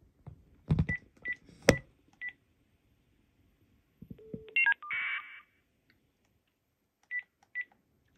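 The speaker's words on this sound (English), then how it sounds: "we clearly heard the FSK tone on the 213" Telephone electronics: a few short beeps and clicks, then a brief burst of buzzy warbling caller ID FSK data tone on an AT&T phone, followed by two more quiet beeps.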